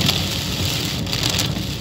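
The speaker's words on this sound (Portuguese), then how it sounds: "chuva torrencial" Heavy torrential rain pours down in Porto Alegre, Brazil, a dense, steady hiss, constant and loud throughout, with no voices.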